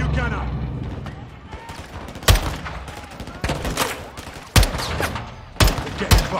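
Gunfire in the Call of Duty: Modern Warfare II campaign: loud, sharp single shots and short bursts punctuate the scene at irregular intervals, with a voice talking in between.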